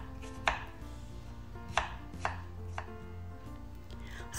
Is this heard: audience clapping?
no